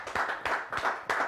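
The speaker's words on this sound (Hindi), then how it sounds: "दोस्तों, जोरदार तालियां होनी चाहिए हमारे परिवार में जुड़े इन सभी नए सदस्यों के लिए।" An audience at a training session applauds new members in four short, separate bursts of clapping, fairly faint and somewhat distant.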